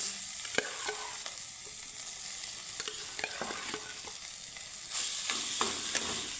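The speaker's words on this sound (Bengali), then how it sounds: "এখন দিয়ে দিব আমি সেদ্ধ করে রাখা আলু" Boiled potatoes stirred into hot oil with fried curry leaves, ginger and chilli: a steady close sizzle broken by repeated spatula scrapes, growing louder near the end.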